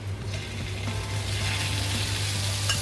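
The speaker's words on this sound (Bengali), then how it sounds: "এই পাশটাও ভেজে নেব।" A chicken sandwich fries in butter on a flat tawa griddle, a steady close sizzle with a low constant hum underneath, continuous throughout with no talking.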